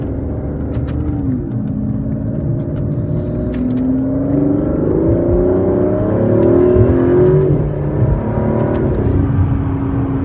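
A 2017 Aston Martin DB11 Launch Edition accelerating hard up through the gears to third, its engine note climbing and dropping with each shift, loud and close with no talking.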